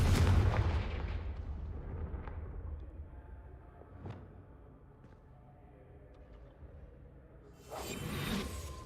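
A booming blast from the Confringo spell in Hogwarts Legacy opens loudly and fades into a rumbling tail, with scattered faint impacts and a swelling whoosh near the end.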